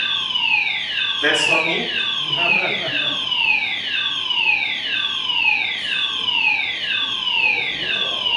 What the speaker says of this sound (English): Is it the fire alarm? Yes.